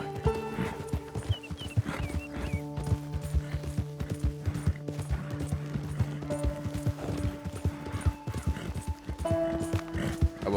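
Horse hooves clip-clop in a steady galloping rhythm during riding in Red Dead Redemption 2, loud and close, with mechanical clanks and tack rattles layered in.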